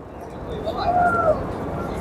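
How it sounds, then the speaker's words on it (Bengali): Street pigeons, thousands gathered near a hotel, give a single soft coo over a constant wash of outdoor street noise. "এই দেখেন হাজার হাজার হাজার হাজার কবুতর"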